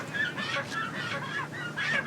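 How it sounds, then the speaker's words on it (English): Live chickens squawking and clucking in repeated bursts at a market, several calls overlapping at close range amid a busy, noisy background. "Buying some chickens."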